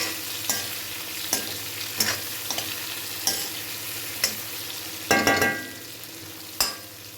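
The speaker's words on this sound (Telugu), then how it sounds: "ఈ వంకాయలు అయితే మనము సిమ్లో మీడియం ఫ్లేమ్లో పెట్టేసుకొని మగ్గించుకోవాలి" Brinjals sizzle steadily in a pan over a medium flame while a spoon scrapes and stirs at irregular intervals, several sharp clacks standing out over the frying hiss.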